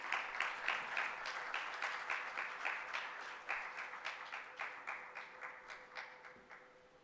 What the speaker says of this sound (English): with a warm round of applause, please welcome my classmates